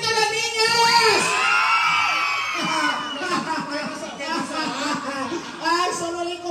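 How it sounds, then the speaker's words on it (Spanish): A crowd of children at a Christmas parade in La Libertad, El Salvador, shouting and cheering loudly in sustained high-pitched waves, with adult voices over a microphone calling out among them. "¡Ay, solo oí cómo gritan los niños!"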